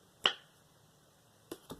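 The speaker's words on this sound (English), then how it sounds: "Snap your fingers" Three crisp finger snaps during a card trick, one sharp and close at the start, then a quick pair after a pause, each a short dry click in an otherwise quiet room.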